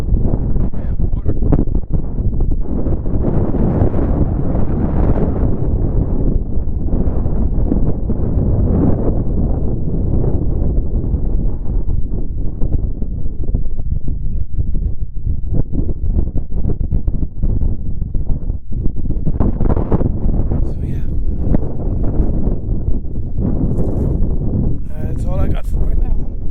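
Steady wind blows across the microphone at Schoolhouse Campground, a loud continuous rumble lasting throughout, with a person talking over it.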